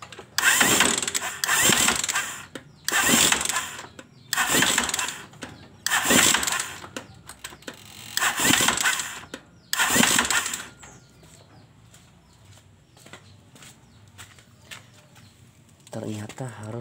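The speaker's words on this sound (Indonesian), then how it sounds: "mesin akan menyala bro. Saya coba nyalakan dulu ya." A VIAR three-wheeled motorcycle engine is cranked over in repeated loud bursts, about seven attempts in a steady rhythm, then settles into a quieter idle, close by with no talk over it.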